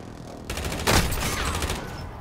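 Gunfire in the Warzone battle royale game, a dense burst of rapid shots rising to a loud peak and then rattling on steadily.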